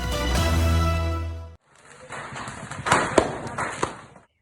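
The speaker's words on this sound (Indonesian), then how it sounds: "dikejutkan dengan terbakarnya pasar yang disertai ledakan kembang api" Fireworks go off during a night fire at a market in Demak, Indonesia. A burst of rapid crackling and popping explosions follows a sustained tonal sound, with several sharper bangs standing out before it fades.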